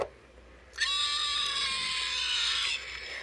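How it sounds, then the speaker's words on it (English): A Velociraptor toy lets out one sustained, harsh electronic screech lasting about two seconds, loud and close, with a tonal shrieking quality and no voices over it. "we got the Velociraptor here that also screams"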